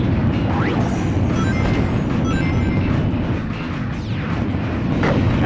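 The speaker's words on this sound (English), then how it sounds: "Don't go smashing up my robots!" Dense crashing and smashing of robots in the Shadow the Hedgehog video game, a loud continuous clatter of impacts and debris with swooping whooshes, no talking.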